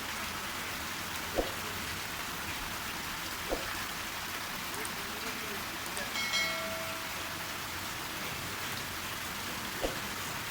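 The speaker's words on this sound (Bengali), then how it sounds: "কী পরিমাণ বৃষ্টি হচ্ছে!" Heavy rain falls steadily as a dense, even hiss at a balcony, with a few brief louder taps and clatters scattered through it and no voices.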